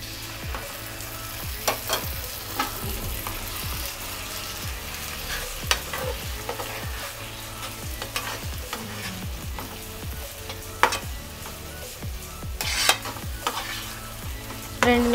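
Boiled gongura leaves with dried prawns are stirred in a pan, a spatula scraping in repeated strokes over a low, steady sizzle for the whole stretch, with occasional louder clacks against the metal.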